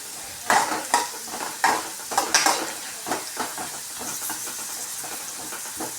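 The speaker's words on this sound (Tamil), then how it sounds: "இது பாருங்கள், எண்ணெயில் நல்லா வதங்கிடுச்சு." Adamant creeper (pirandai) stalks sautéing in hot oil for a chutney, giving a steady close hiss and sizzle broken by several sharp scraping stirs of the spatula against the pan, with no talking.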